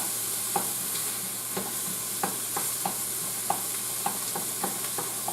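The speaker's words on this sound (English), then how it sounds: "we're going to go ahead and saute this up a little bit. Want to make sure that the onion is soft" Onion softening in hot oil in a pan, a constant bright sizzle with scattered soft taps and scrapes of stirring, close and steady throughout.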